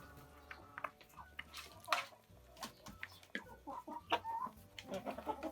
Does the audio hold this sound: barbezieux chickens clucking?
yes